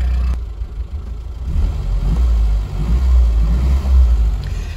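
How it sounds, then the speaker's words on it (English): Metro car engine idling steadily after an exhaust blow was repaired with exhaust putty, a loud, close, continuous low rumble with no talk. "I'm just letting it idle for a few more minutes just to let that exhaust putty fully cure."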